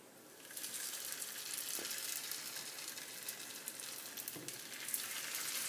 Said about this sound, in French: Une fois que l'huile est bien chaude, on passe à la cuisson. Donc on va plonger délicatement nos nems dans l'huile.